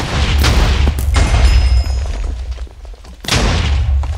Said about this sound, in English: Just throw a fireball